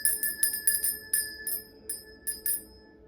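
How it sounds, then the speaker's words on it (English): A small bell chimes again and again in quick, uneven strikes, bright metallic tones ringing on between hits, fairly faint and alone in a quiet room. "I'm going to start by ringing the bell."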